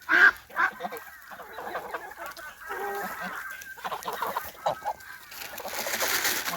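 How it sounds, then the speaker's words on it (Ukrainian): Farmyard geese honk and cackle nonstop as they hurry toward thrown grass, several birds calling at once close by, with a person speaking over them. "А гуси ненаситні, вони де кинеш траву, туди вони біжать"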